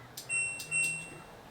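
An LG WM4500 washing machine gives two short, high electronic beeps as its dial is turned, with soft clicks from the dial and a quiet room behind.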